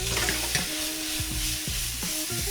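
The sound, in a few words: minced meat frying and browning in a pan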